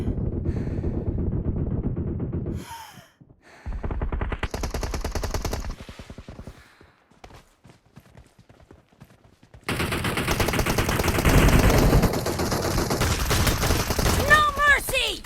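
Rapid bursts of gunfire from a shotgun in a PUBG Mobile team deathmatch on the Ruins map, loud and close, separated by quieter stretches with game sound effects.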